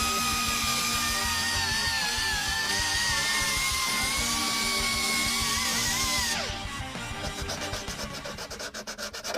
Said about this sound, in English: So we're using 50 grit sandpaper to grind down the pieces.